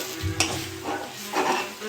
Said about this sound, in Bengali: আমি ভালো করে কষে নেবো মশলাটা।